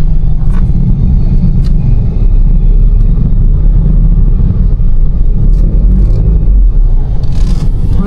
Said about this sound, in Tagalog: Pumasok naman yung tricycle.